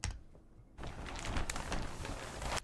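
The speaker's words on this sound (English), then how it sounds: "the last layer is just a pitched down bag" Bag recording pitched down and then pitched back up, with no effects: a brief faint crinkle followed by a dense, continuous rustling and crackling texture that swells and stays loud to the end.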